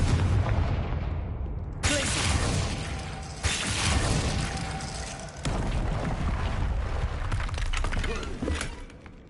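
Confringo blasting spells from the Hogwarts Legacy video game, a run of loud, booming explosions with crackling, shattering debris, one blast after another over several seconds.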